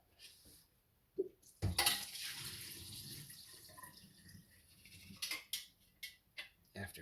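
Water from a large coffee percolator empties into a sink, with splashing, clattering metal and dish knocks near the microphone and a quiet voice now and then.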